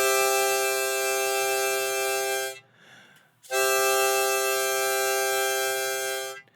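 Harmonica playing holes 4, 5 and 6 together as a chord in two long, loud, sustained notes separated by a short pause, close and alone.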